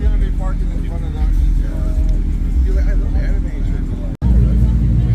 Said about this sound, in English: Got a black Supra coming in.